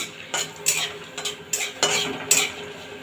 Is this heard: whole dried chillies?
yes